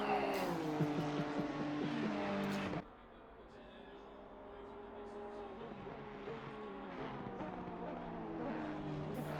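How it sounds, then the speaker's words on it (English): GT3 race cars in a sim racing game at Barcelona produce loud engine whine with shifting pitch that cuts off abruptly, followed by quieter engine drone from cars further off. Commentators talk over the sound. "Enjoy the sounds of the GT3 cars."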